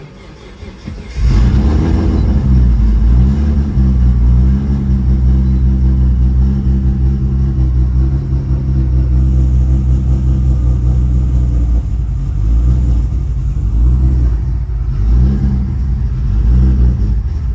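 A Nissan R32 GTR starts after sitting cold, its engine catching about a second in and then holding a loud, steady rumbling idle with slight rises in revs, close by and with no talking.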